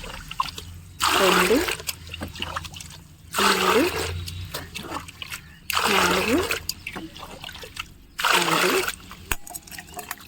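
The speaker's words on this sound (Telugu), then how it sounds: "ఇలా ఒక మగ్గు ఉల్లిపాయ నీళ్ళు తీసుకుంటే దీనికి 5 మగ్గులు నార్మల్ వాటర్" Mugfuls of plain water are poured one after another into onion-water fertilizer to dilute it, giving four distinct splashing pours separated by pauses while a voice counts along.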